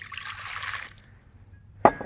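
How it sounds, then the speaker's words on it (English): Warm water poured into a bowl for flatbread dough, a short close splashing trickle that stops, followed by a single sharp knock. "A little warm water"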